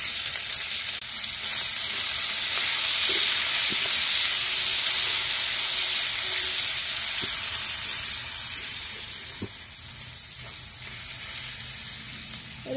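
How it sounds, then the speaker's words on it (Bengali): Garlic and chopped onion fry vigorously in a pan, a dense, steady sizzle with occasional light knocks from stirring, easing slightly in loudness near the end. "রসুন পেঁয়াজ ভালো করে ভেজে নেব।"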